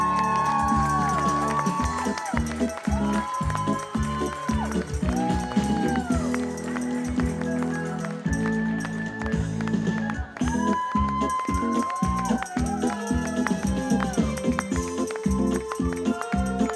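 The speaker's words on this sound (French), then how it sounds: "On les applaudit!" Medallists in a U17 triathlon relay are greeted on an outdoor stage by a crowd that claps and cheers with scattered shouts, while loud music plays over the applause throughout.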